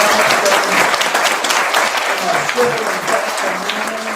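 A loud, dense burst of audience applause at a candidate forum held in a library fills the room, a sustained wash of clapping with voices mixed in throughout.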